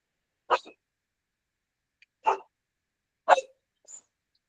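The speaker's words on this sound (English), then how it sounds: "My pet, he's just barking." A pet dog indoors gives three short, sharp barks spaced about a second apart, followed by a fainter fourth yelp, with silence between them.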